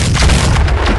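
A BattleTech Grand Dragon mech fires its PPC at a Hunchback, a loud, dense, booming blast that fills the whole second with a heavy low rumble and crackling energy, with no voices.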